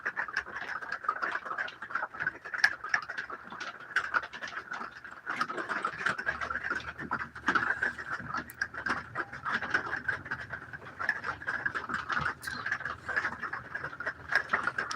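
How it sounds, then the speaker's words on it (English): Steady rain patters and drips continuously outside on a rainy day, a dense even hiss with scattered close taps and no voices. "The peaceful sounds of the rain."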